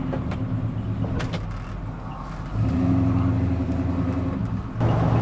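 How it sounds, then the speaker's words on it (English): A 1984 Chevrolet K10 short bed 4x4 pickup drives down the road at about 40 mph, a steady low engine drone and road rumble from inside the cab, lifting and growing louder partway through. "We're going about 40 miles an hour down the road."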